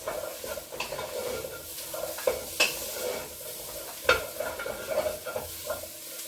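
Turnip and other chopped vegetables tossed and stirred in a hot pan for Irish beef stew, a steady sizzle with scraping stir strokes and a few sharp utensil knocks, close and alone.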